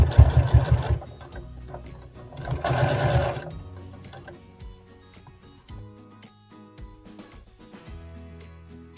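Sewing machine topstitching along the edge of a bear hoodie's hood, a loud close burst at the start and another around three seconds, then quieter mechanical ticks and hum as stitching slows.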